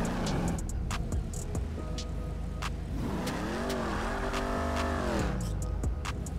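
A 2016 Dodge Charger Hellcat in GTA 5 revs hard with its tires squealing, a loud sustained engine roar rising and falling in pitch, with screeching tire noise layered throughout.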